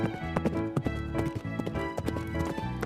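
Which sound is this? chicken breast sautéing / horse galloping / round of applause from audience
horse galloping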